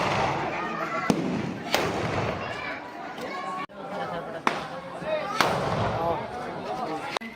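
Diwali firecrackers going off outdoors, several sharp bangs and cracks at intervals over a dense crackling background, with people chattering throughout.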